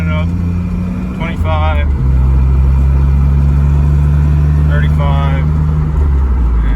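Small 55 hp, 50 mpg car pulling up through second gear while towing a 72-inch zero-turn mower, its steady mid-pitched engine drone rising in pitch, with someone talking briefly over it.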